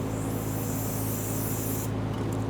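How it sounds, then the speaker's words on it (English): A steady, close hiss of solvent sprayed onto a fuel hose connector on a 2005-2021 Nissan Frontier 4.0L V6 fuel pump module, lasting about two seconds before cutting off. "If it's not, go ahead and spray it down with some solvent."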